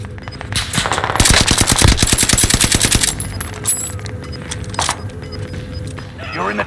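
Automatic gunfire rattles in a fast, loud burst during a video game battle royale match, then gives way to quieter game sounds and scattered effects with voices over them.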